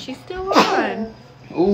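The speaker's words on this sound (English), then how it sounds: "don't sneeze on the food" A single sharp sneeze bursts out mid-conversation in a home kitchen during cooking of chicken fajitas, loud and close, with people talking before and after.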